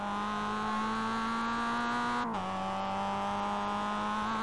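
A Mazda MX-5 race car in iRacing holds a steady, loud engine drone on throttle, dipping briefly in pitch near the midpoint before settling and continuing until an abrupt cut at the end.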